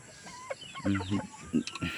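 Chickens cluck softly in short, uneven bursts nearby, with faint background noise and no clear talking.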